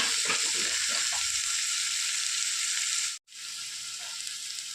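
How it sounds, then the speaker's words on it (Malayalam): Onions sauté in a pan for a breadfruit thoran and are stirred through, giving a steady, close sizzle with soft scraping and stirring noises and one brief pause in the middle. "ഇനി നന്നായിട്ടൊന്ന് ഇളക്കി യോജിപ്പിക്കുക"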